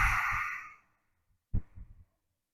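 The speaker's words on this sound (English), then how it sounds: "a big open mouth exhale to let it all go" A big open-mouthed exhale at the close of a yoga practice, a long, soft breathy rush fading out, then after a pause a short, lower release of breath, close and quiet.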